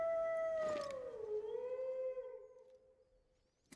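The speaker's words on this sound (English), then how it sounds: "Alright, well, I hear a bunch of wolves howling." A wolf's long howl from theHunter: Call of the Wild, set in the Yukon, rises and slowly bends downward before fading out, fairly faint and distant, with a few harmonic voices trailing behind and no talk.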